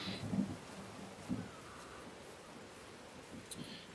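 A thunderstorm in a video game: a low, steady wash of rain and wind with a couple of dull rumbling swells near the start, moderately loud and continuous, no voices.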